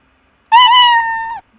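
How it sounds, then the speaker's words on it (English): The Scratch meow sound effect, pitched up higher, plays once as a single clean, close meow of just under a second with a slight downward bend at the end, heard alone. "then you can play the meow"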